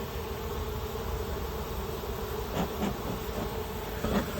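Honey bees drone around a beetle-infested hive during smoker use, a constant close buzz of many insects under steady background hiss.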